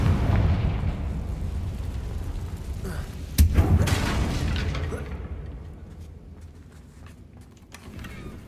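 Confringo fire spell explosion in Hogwarts Legacy: sustained low rumbling blasts with a sharp burst about midway, then the roar fades into quieter game ambience before rising slightly again.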